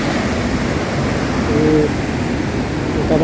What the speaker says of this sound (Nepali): यहाँ छ खोला। यो खोला ठुलो आउने भयो